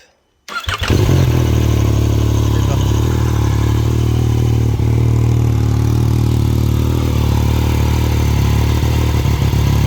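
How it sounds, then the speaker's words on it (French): A Yamaha MT-09 motorcycle engine cranks and catches after a brief silence during a 20,000 km service, then settles into a steady, loud, chugging idle that runs without pause. "Et maintenant, on va démarrer la moto."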